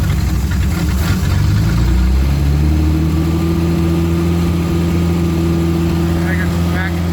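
A 1976 Mustang II Cobra engine runs steadily at a loud, close idle after settling from a rougher start, with a continuous low hum throughout.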